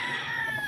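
A Boston Millionaire gamefowl rooster crows, a single short, harsh crowing call heard near and fairly loud on a game farm.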